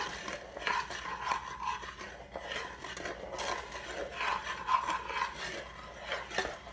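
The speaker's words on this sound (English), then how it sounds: "you can use that to stir the yeast" A spoon stirs and scrapes through yeast mixture for pizza dough, soft irregular rubbing and faint clinks against the bowl, close and quiet, with no speech.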